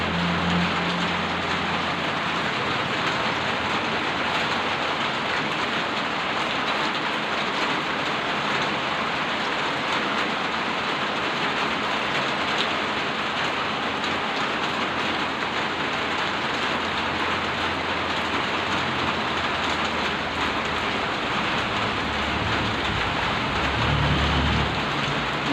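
Heavy rain pours down steadily during a typhoon, a dense, continuous hiss with low thunder rumbling faintly beneath it.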